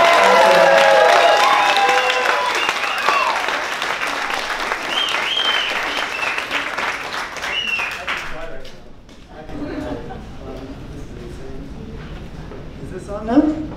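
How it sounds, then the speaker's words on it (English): An audience at a book talk bursts into loud, dense applause with some cheering and voices, the clapping thinning and fading after about eight seconds as chatter and laughter carry on. "please give a warm round of applause for Josh Katz."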